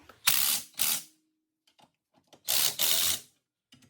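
A lowering coil spring being squeezed on a car strut with a spring compressor, heard as two pairs of loud, close mechanical ratcheting bursts separated by quieter clicks and silence.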